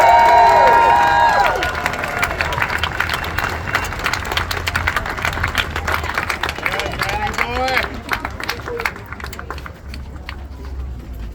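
Crowd at a rally in Edmonton applauding and cheering, starting with loud whoops and cheers that fade into scattered clapping and crowd murmur, with people talking throughout.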